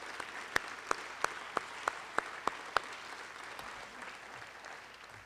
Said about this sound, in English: How about a round of applause for all our speakers that we've had today?